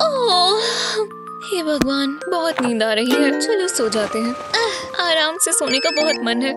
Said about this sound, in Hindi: ये मेरा फोन है, वो कहाँ है?